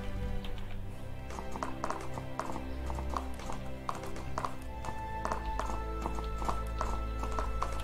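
Horse hooves clip-clopping in the video game Animallica, a steady rhythmic patter of close hoof taps over continuous game music, with an occasional whinny-like tone.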